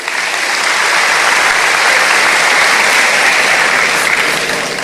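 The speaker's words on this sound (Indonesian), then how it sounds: "Tepuk tangan dulu." A large audience breaks into loud, sustained applause at a church gathering, a dense even roar of clapping that swells in and holds without talk.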